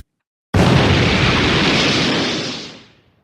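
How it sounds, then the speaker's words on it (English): A loud explosion sound effect bursts in suddenly and holds as a broad rumbling roar before fading out over a couple of seconds, with no talk. "I'm a little nervous about this explosion thing"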